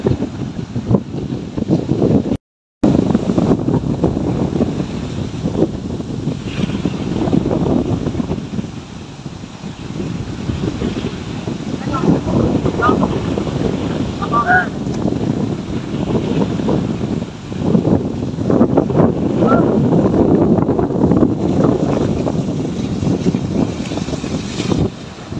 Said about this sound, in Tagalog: Sarap! Mahangin!